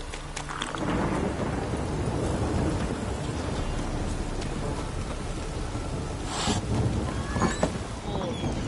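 A thunderstorm with steady heavy rain in The Witcher video game, a continuous dense hiss of rainfall with a low thunder rumble and a sharper crack near the end, loud and enveloping.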